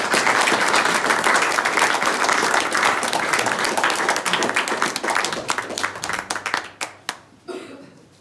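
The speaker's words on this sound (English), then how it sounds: "let's just have a round of applause for all the people that" An audience at an event opening at Lymm Heritage Centre gives a full round of applause, dense and sustained before thinning into a few scattered final claps and stopping.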